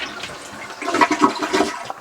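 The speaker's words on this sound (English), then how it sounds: "give it a flush" A toilet is flushed after a replaced wax ring is fitted, giving a loud, close rush and gurgle of water that swells and surges for about two seconds with no voices.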